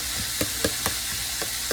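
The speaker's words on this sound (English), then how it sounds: "So let's just stir our okra up in there so we can get coated" Okra coated in buttermilk being stirred in a pan, a soft sizzle under a handful of sharp, irregular scraping clicks from the utensil, close and brief with no talking.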